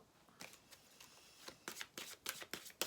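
Oracle cards handled and shuffled close by, a series of soft riffling bursts that quicken and grow louder toward the end, with no talking.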